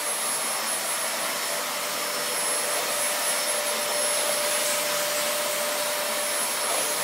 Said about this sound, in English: You get that Hoover.